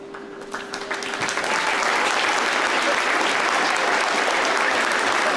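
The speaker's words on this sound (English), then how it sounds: "let's give a round of applause for all our seniors that help make up the SHEYENNE volleyball program" A gym crowd at a high school girls' volleyball match applauds its seniors, clapping rising from scattered claps to a loud, sustained, dense ovation that fills the hall.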